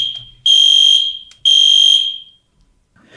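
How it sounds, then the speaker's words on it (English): An indoor fire alarm sounding two loud, piercing electronic beeps, each about half a second long and a second apart, with a faint chirp between them before it falls silent. "we had a fire alarm here that went off"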